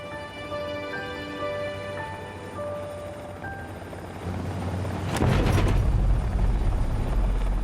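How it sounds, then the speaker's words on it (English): Rescue helicopter flying over mountains, a steady rotor and turbine drone with tonal whine that swells louder and closer toward the end. "as the helicopter makes its way over the mountains"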